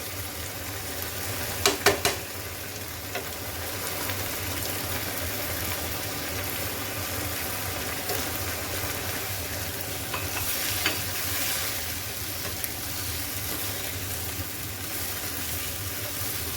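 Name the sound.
cumin, salt, pepper and chicken stock added to a cooking pot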